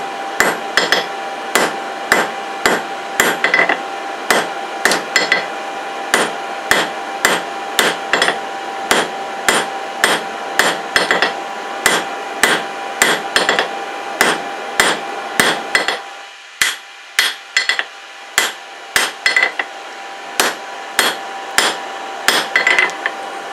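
Hammer blows forging a taper on a hand-forged iron rope cleat, a long run of sharp ringing metallic strikes in a steady, quick rhythm with brief pauses, loud and close, no talking.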